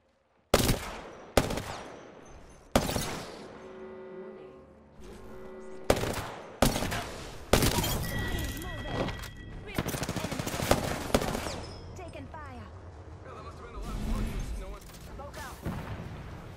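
Gunfire in the Apex Legends video game: sharp bursts of automatic shots and single cracks, loud and close, repeating in clusters with brief pauses, with heavier booming impacts mixed in.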